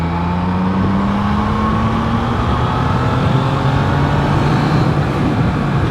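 A Triumph Trident 660 motorcycle pulls steadily in fifth gear at around 50 km/h, its engine note rising smoothly and continuously under strong wind rush, loud and close throughout with no talking.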